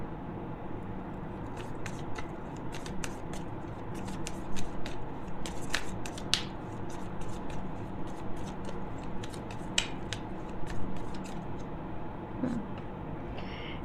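Tarot cards are drawn one by one from a deck, making a series of crisp, irregular snaps, slides and flicks close up over a low steady hum, without any talking.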